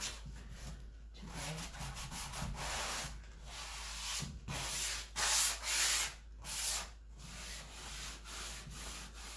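Painted wood is sanded by hand to distress the corners, giving faint, irregular rubbing strokes in short bursts with brief pauses between them.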